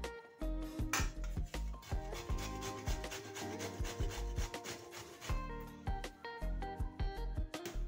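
A peeled bottle gourd (lauki) is rubbed against a kitchen grater in steady, rhythmic back-and-forth strokes. The close, raspy scraping runs alone with no talking.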